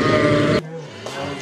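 A sheep bleats loudly and close at a shearing on a Tuz Gölü farm, one long wavering cry that cuts off, followed by quieter background noise.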